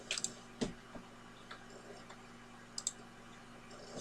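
A few sharp, quiet mouse clicks spaced apart, near and dry against a faint hum, with no other sound.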